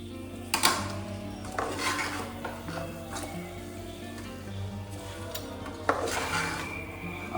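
A utensil stirring and scraping quail fry gravy in a metal pan, intermittent clanks and scrapes at an uneven rhythm, close and moderately loud, with no voices.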